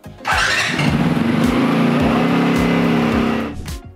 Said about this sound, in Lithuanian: keturračio variklis turi būti užvestas